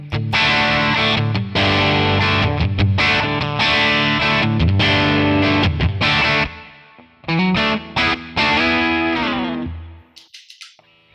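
Distorted electric guitar played through an OD100 amp model in Tonex, a Two Rock tone model, with chords and riffs ringing for about ten seconds, a brief pause near the seven-second mark, then a fading tail and a few short stray notes.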